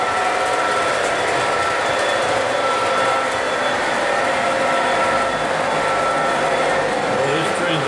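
Continuous rumbling rattle of a model train running steadily, a dense mechanical whir that stays loud and even throughout.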